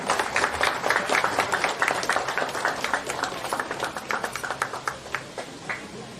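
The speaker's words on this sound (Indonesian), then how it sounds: "mari kita berikan tepuk tangan yang meriah" Lively applause from a crowd at a church groundbreaking ceremony in Lubuk Linggau, dense steady clapping that holds for several seconds and thins slightly toward the end.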